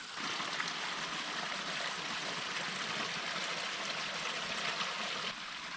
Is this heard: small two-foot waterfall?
yes